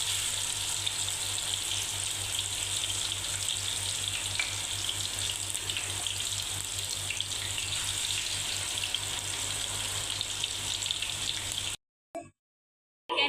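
Marinated chicken broast pieces frying in oil over a low flame, a steady soft sizzle that continues evenly before cutting off briefly near the end.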